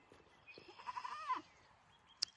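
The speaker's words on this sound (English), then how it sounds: "I just love being at her with the goats, even with her screaming." Goats bleating on a farm pasture, a loud wavering cry rising and falling for about a second near the middle, with softer calls around it and a brief sharp click near the end.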